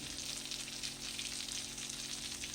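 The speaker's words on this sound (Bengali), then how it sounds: "দু চামচ নারকেল বাটা দিচ্ছি" Hilsa fish masala fries in a pan as coconut paste goes in, a steady close hiss of sizzling oil that holds evenly throughout without any speech.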